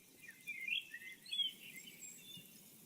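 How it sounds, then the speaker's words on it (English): Looping birdsong plays in a garden scene, soft chirps and twittering calls scattered over faint background noise, light and fairly quiet throughout. "Calm down, birds."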